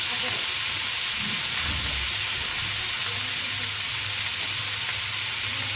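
Veg chow mein fries in a pan as it is stirred with coriander leaves, giving a steady, close sizzle and hiss with soft stirring scrapes underneath.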